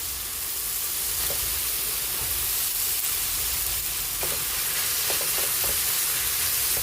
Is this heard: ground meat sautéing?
yes